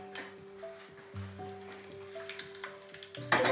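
Cumin seeds and five or six bay leaves frying in hot oil for a homemade masala chicken, a steady close sizzle with light crackles and occasional stirring scrapes, with no talking.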